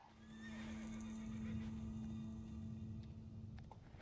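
A horse in Assassin's Creed Origins whinnies loudly and close, the neigh stretching over a few seconds above a low rumbling bed of game ambience, with faint hoof clatter and no talking.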